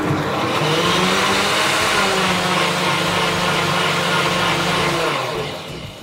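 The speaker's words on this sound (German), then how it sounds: "Und das Ganze wird jetzt gemixt." A blender mixing a drink of water, mint leaves and agave syrup, a loud steady motor roar with whirring liquid that runs for several seconds and tapers off at the end.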